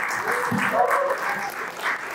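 An audience claps steadily through a live awards finale for a mobile film contest, a dense wash of applause with talking over it.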